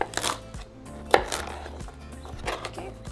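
Knife chopping asparagus spears into pieces on a cutting board, a few sharp separate cuts at an uneven pace, close up and fairly quiet, with faint background music underneath.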